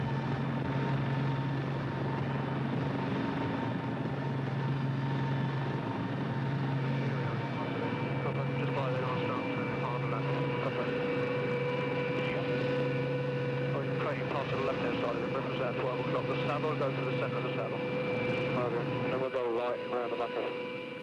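Army Air Corps helicopters idle with engines running, a steady droning whine and low rotor hum holding throughout, while a narrator talks over it.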